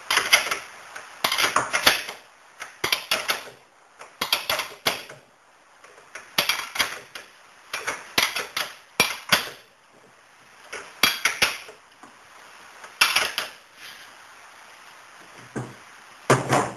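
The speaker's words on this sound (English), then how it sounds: "Now we move around and we tighten up the main nut." Metallic clinks and ratcheting taps from a wrench tightening the main rear wheel nut on a bicycle during chain adjustment, coming in short irregular clusters close up with quiet gaps between.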